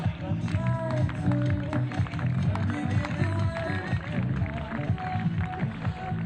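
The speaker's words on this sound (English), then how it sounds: "A big round of applause, please, for our fielding side, Team Knight" Applause for the fielding side at a school cricket match, a steady wash of clapping from a moderate crowd carrying on through the whole stretch with no voices over it.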